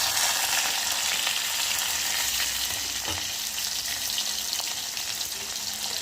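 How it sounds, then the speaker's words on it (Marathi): Onion sizzling as it fries in two spoons of hot oil for a Kokani-style usal, a steady crackling hiss with occasional stirring clicks. "तेल गरम झालं की त्याच्यामध्ये कांदा टाकून घ्यायचा आहे"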